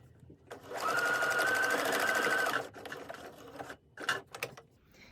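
A sewing machine stitches a fabric face mask in one steady two-second run, then gives a few short, quieter bursts, all close and fairly soft.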